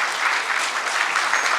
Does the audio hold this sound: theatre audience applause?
yes